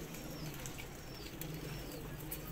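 Pigeons being handled: faint, soft cooing under a constant background noise, with no talking.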